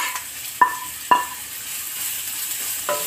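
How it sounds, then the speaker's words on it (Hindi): Onion, carrot and capsicum stir-fried for chowmein hiss in a hot pan with a soft steady sizzle, broken by two sharp metallic scrapes or taps of a utensil early on and another near the end. "सभी सब्जियों को बस एक मिनट बस भूनेंगे।"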